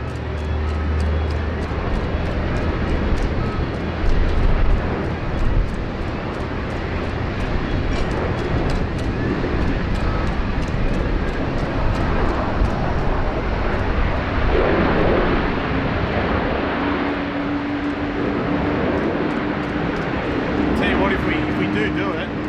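An American Airlines jet takes off from Sydney Airport in falling rain, its engines roaring loudly and steadily before rumbling off into the distance, while someone talks over the noise.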